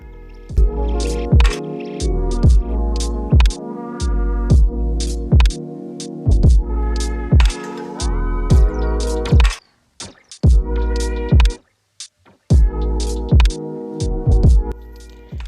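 Flour being stirred into a thick cookie dough in a bowl, giving repeated rhythmic squishy knocks and scrapes with short pauses, close and fairly loud, with no talking.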